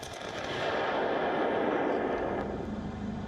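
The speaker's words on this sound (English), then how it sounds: "But on ground, the big guns are booming." Heavy artillery guns fire during Russian military drills in the Voronezh region, a continuous loud rumbling barrage of booms blending into a dense roar, with no speech.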